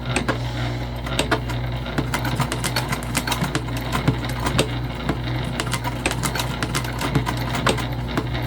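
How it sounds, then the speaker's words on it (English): A sewing machine back-stitches a seam on a travel sling bag, running steadily up close with a continuous motor hum and a rapid, even needle ticking throughout. "I'm just back stitching, making sure our thread catches."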